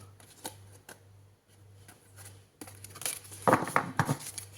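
Tarot cards being shuffled close by: soft intermittent riffles and flicks at first, then a denser burst of crisp card slaps and rustling toward the end.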